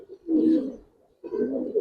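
A Giribaz pigeon coos up close in two soft, throaty bursts separated by a short pause, quiet and alone.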